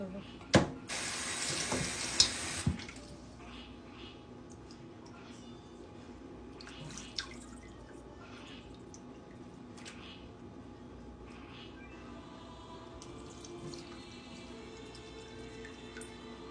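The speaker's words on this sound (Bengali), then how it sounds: "ইলিশ মাছ ভিজিয়ে রেখেছি এবার এগুলিকে পরিষ্কার করে ধুয়ে নেব" Soaked hilsa fish are rinsed under a running tap: a loud burst of gushing water at the start, then quieter dripping, splashing and handling sounds in a sink.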